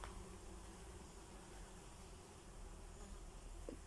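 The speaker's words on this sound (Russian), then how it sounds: "Тут повсюду жужжат мухи. Прям гул такой стоит." Flies buzzing inside an abandoned building, a faint steady insect drone hanging in the air with no break, soft and diffuse against a quiet room.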